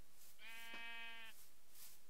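A single sheep bleat from the Minecraft video game, one clear, quavering call about a second long, moderately loud with no voices over it.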